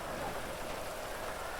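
Steady rain in the video game GTA V, a dense continuous hiss of drops falling on surfaces, even and unbroken from start to finish, with no talk.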